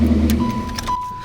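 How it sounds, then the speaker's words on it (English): A GM car's engine is switched off: a low idle rumble cuts out within half a second, followed by a thin steady electronic tone and faint clicks and key jingles close by. "let me turn the car off"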